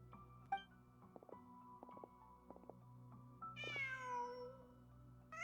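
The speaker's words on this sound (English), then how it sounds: "Just a cat." A cat in a video game gives a single clear drawn-out meow near the end, set against a quiet game ambience with soft tonal music and a few faint clicks.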